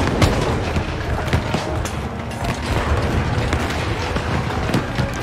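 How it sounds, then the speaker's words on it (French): Sniper shot in Shadow Tactics: Blades of the Shogun, among a run of sharp booming cracks and thuds over dense game noise, loud and close, with no talk. "Je pense que c'est le moment d'utiliser le sniper."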